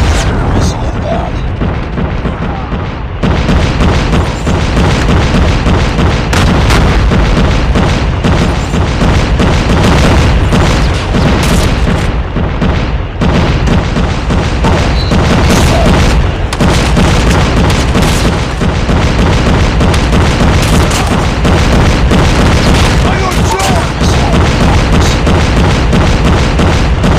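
Repeated missile explosions rumble through an online Call of Duty firefight, heavy booms layered over continuous loud battle noise and gunfire with no letup, while in-game voices call out alerts.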